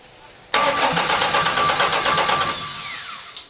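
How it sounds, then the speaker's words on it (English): A Chevy 4.3 V6 fitted in a Series Land Rover cranks briefly and then catches, running unevenly at first before settling into a fast idle. Close and loud, with no talking. "I've already set up the starter and it cranks quite nicely."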